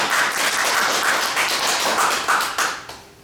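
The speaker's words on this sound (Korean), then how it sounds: "박수." A church congregation claps together in applause during a Sunday evening service, a steady dense patter of many hands that holds evenly and tapers off at the end.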